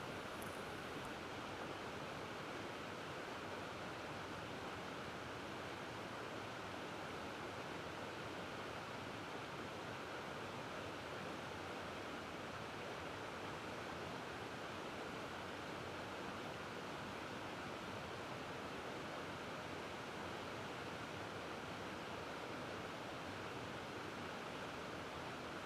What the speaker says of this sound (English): Noticing the water to the right of the steps.